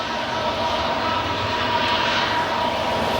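A jet airliner departs from an O'Hare runway in the evening, a loud, sustained engine roar holding steady throughout.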